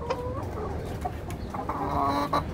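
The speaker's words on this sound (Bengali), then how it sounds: "এই দেখেন, আমার এখানে অষ্টলাভের মুরগিগুলো আছে।" Australorp hens cluck in a coop, several birds giving repeated short, nasal calls close by, with overlapping clucks throughout and no talking.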